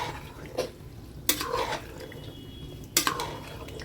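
A spoon stirs matar pulao in a cooking pot, giving a few soft scraping clinks against the pot at irregular intervals over a faint background hum, with no talking.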